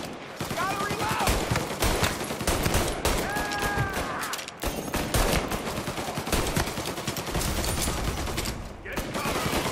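Rapid bursts of gunfire crackle through a shootout in Mafia: Definitive Edition, dense automatic volleys with brief pauses, loud and close, while voices shout between the shots.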